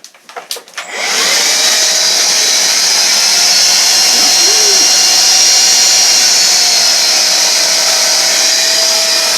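A Vax cordless vacuum cleaner running on boost mode gives a loud, steady high-pitched whine that kicks in after a brief start-up and holds unbroken to the end, with no one talking.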